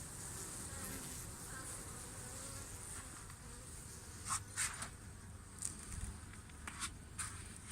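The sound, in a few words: bees buzzing at a heated beehive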